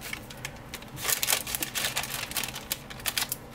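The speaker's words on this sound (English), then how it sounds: "So I'm just pulling my transfer or the parchment paper off" Parchment transfer paper is peeled off a vinyl car decal in a run of crisp, irregular crackling ticks, close and continuous, growing busier midway.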